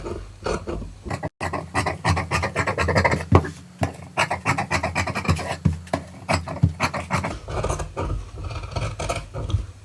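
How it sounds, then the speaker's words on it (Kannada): Scissors snipping through blouse fabric, close and fairly loud, with a steady run of crisp cuts and scraping strokes that fill the whole stretch, sometimes over a low hum. "ಸ್ನೇಹಿತರೆ ಇವಾಗ ಕಟ್ ಮಾಡೋಣ."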